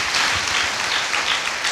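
A church congregation breaks into applause, a dense, steady patter of many hands clapping at close range, with no talking.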